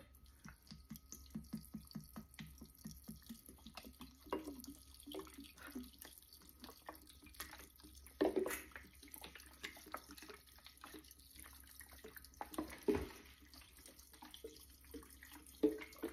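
Alcohol poured over cleaver herbs to make a tincture, a faint steady trickle of liquid with soft gurgles and small splashes, quiet and close with no talking.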